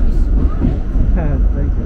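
A New York City subway N train rumbles loudly and steadily throughout, with rail clatter and a rising whine under nearby conversation.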